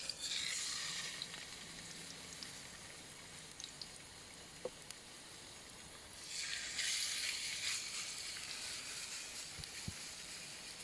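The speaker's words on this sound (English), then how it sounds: "frying pan gently going" Kipper fillets frying gently in a pan on a Trangia stove, a soft steady sizzle that swells louder partway through, with a few small ticks and pops.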